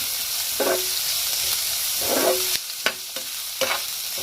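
Onions frying in a little oil in a pan: a constant bright sizzle broken by several stirring scrapes and clicks, close up with no voices.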